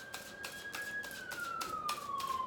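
A police siren sounds from outside, a single steady wailing tone gliding slowly downward over a pulsing background, moderately faint and distant.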